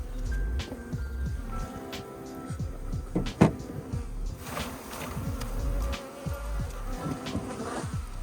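Honey bees from a hive rescued after a rat attack buzz steadily up close, a dense droning hum with occasional knocks and handling noises as the comb is worked.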